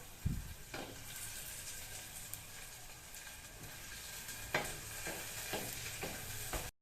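Garlic stirred in a pan for fish curry, with a steady low sizzle under repeated scraping strokes of the spoon. The strokes come at irregular intervals, with one sharp knock near the start. No one speaks.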